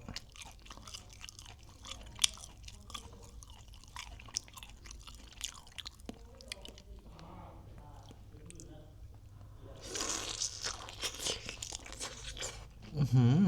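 Close, wet chewing of tender meat with soft bites and smacking, a brief murmur of speech partway through, and louder crunching and rustling near the end.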